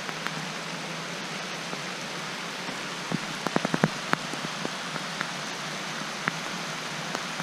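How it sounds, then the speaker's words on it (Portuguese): Heavier rain pours down around a motorcyclist sheltering on a trip in Santa Catarina, a dense continuous hiss with sharp drop impacts clustering midway, close and steady with no voices. "Ih, tá piorando a chuva."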